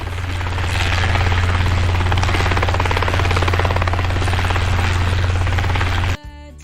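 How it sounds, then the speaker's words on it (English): A helicopter's rotor chops in a loud, steady, close whir that runs unbroken for about six seconds and then cuts off abruptly, with no talk. "It's a helicopter!"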